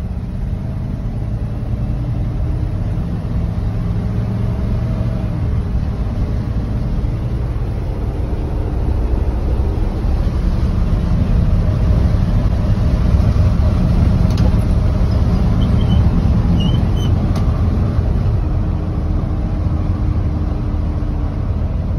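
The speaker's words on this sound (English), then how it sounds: "This is a driving video of the 73 Chevy C20." A 1973 Chevy C20 pickup truck drives along with a steady, loud low engine drone and road rumble inside the cab, holding an even level throughout.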